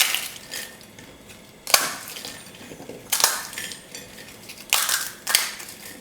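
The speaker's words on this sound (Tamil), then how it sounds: "இப்போ பூரியை வந்து உடச்சிக்கோங்க, ரொம்ப பொடியாக வேணாம்" Crisp fried puris snapped and crumbled by hand for masala puri, four or five separate crunchy crackling bursts spaced a second or so apart, close and fairly loud with quiet rustling between.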